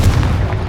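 A Confringo fire spell explodes in the Hogwarts Legacy video game, giving one brief, loud, deep boom with a rumbling low body.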